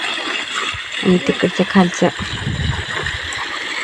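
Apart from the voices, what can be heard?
irrigation water flowing into a farm field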